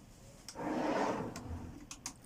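A drawer slides open inside a full-time-livable alcove camper van, giving a single near scrape and rumble lasting about a second, with a couple of light clicks and knocks afterward.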